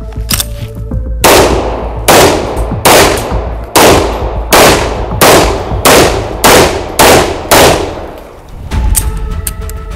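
Rapid gunfire in a special forces shooting drill at ten targets: ten loud, sharp shots in a steady rhythm, close and echoing, over a little under eight seconds.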